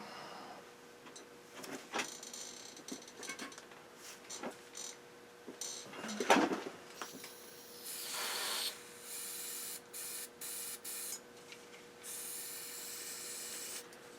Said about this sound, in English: Let me try putting some cold spray on it.